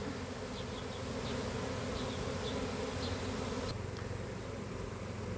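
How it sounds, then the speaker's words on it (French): A recovered swarm of honey bees buzzing as they enter a hive, a loud, dense, continuous hum from a crowd of insects close to the microphone. "là on voit que les abeilles commencent à rentrer dans la ruche"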